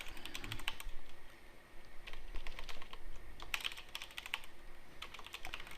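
Close, rapid typing on a computer keyboard while entering a backup name in SQL Server, with steady clicky keystrokes in bursts and brief pauses and no voice.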